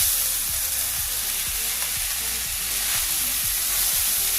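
Steady bright sizzle as drained sago hits hot ghee in a kadai, loud and continuous with faint rhythmic stirring knocks beneath.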